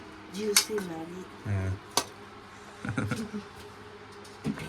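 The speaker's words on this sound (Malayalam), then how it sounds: "ഇതാണ് പാത്രമൊക്കെ കഴുകുന്നത്" Pots, plates and cutlery are washed by hand in a new home in Kodaikanal. Scattered clinks and clatters come close up and fairly quiet, with a voice talking in between.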